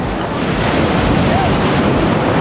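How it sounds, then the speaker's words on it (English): Strong ocean waves crash and surge continuously at a small cove at Jamaica's Blue Lagoon, a loud, close, broadband roar of surf with wind buffeting the microphone throughout. "Okay, the waves are super strong."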